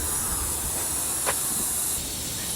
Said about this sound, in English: Sounds like we might have a puncture as well.